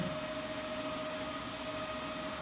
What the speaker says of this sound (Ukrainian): Вентилятори зразу на максимум вийшли.